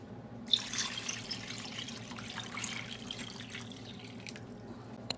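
Water streams from a tap into a cooking pot holding fish heads for soup, a soft steady splashing and trickle heard close up and fairly quiet.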